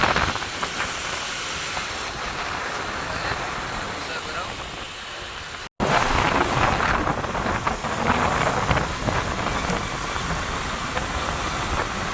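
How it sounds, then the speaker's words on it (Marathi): Heavy monsoon rain pours at Raigad fort with rolling thunder, a dense, continuous roar that cuts out for a split second midway and then resumes just as strongly, with faint voices in the background. "पाऊस जोरदार आहे"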